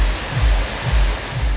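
Water sprays steadily at the kids' splash area of Dollywood Splash Country, a loud close hiss with low surges repeating about every half second.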